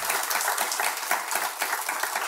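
A live audience at a lecture breaks into applause, a dense steady patter of many hands clapping together throughout, with no talking.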